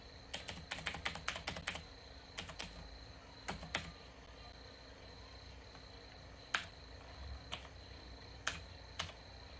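Keys on a computer keyboard are tapped in quick bursts, then in single spaced presses, as an Aadhaar card number is entered. The taps are close and quiet, with a faint constant hiss behind them.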